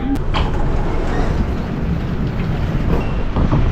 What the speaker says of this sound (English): I think we're slowing down and we're entering Laoximen station